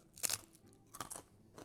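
Two sharp, close crunches as someone bites and chews a thin, eighth-inch homemade potato chip, each bite a crisp, higher-pitched crackle with a short pause between.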